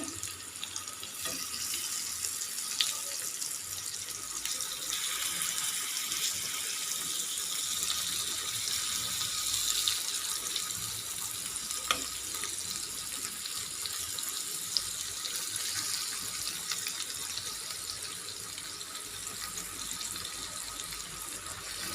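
Slices of raw banana fry in hot oil with a steady, hissing sizzle and scattered faint pops over a long stretch, moderately quiet and with no speech.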